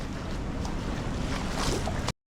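Water pours steadily from an overflowing dam into a river, a loud, continuous, close rushing roar with no voices that cuts off abruptly near the end.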